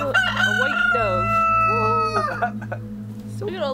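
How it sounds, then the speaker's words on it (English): A rooster crows among a flock of chickens on castle grounds in Midlothian, one long, loud, wavering crow close by over a steady low hum, followed by softer clucks. "I think I found the rooster."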